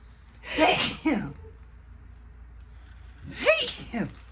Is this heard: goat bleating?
no